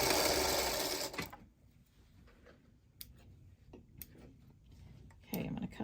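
A home sewing machine runs hard for about a second while stitching quilt block pieces together, then drops to quieter handling with scattered ticks and clicks from the machine and fabric.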